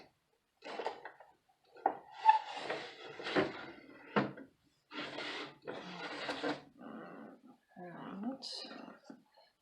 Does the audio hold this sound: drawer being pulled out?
yes